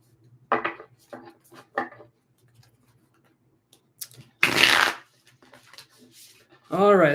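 Tarot cards shuffled in a few short riffling bursts during a live psychic reading, with soft rustles between them and faint talk later in the scene.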